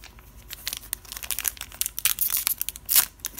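Foil wrapper of a Dragon Ball Super Galactic Battle card booster pack being torn and crinkled open, a close, busy stream of sharp rips and crackles lasting several seconds with no talk.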